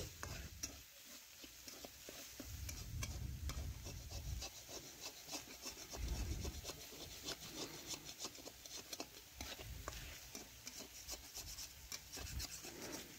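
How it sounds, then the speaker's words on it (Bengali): Snails stirred and frying in mustard oil in a pan for a spicy snail curry, with constant scraping of a wooden spatula against the pan over a sizzling bed, rhythmic rubbing strokes throughout and no voices. "সর্ষের তেল দিয়ে শামুক নাড়াচাড়া করে একটু ভেজে নিচ্ছি"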